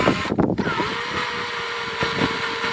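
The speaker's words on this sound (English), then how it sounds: "I'm going to go ahead and use a 1/2-inch drill bit to" A power drill with a 1/2-inch bit bores into a pool wall at the skimmer, giving a short, fairly quiet whine that follows a brief burst of clatter and keeps running steadily.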